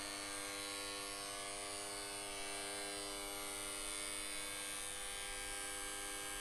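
Three-phase squirrel cage induction motor running at no load on a brake test setup, giving a steady, continuous electric hum and buzz with no change in level throughout.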